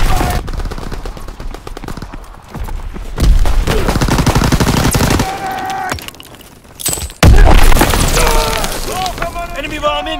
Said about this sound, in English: Enemy bomb incoming. Incoming enemy artillery.